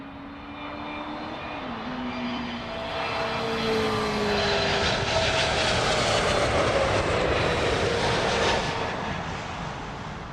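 A Saudia airliner arriving at London Heathrow roars steadily overhead, its jet engine noise swelling to a loud peak and easing slightly toward the end, with a low whining engine tone sliding in pitch early on.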